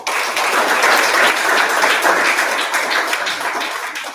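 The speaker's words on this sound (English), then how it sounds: "Can we clap for that?" An audience at a community empowerment workshop breaks into lively applause, a dense burst of clapping that swells quickly and then slowly tapers off.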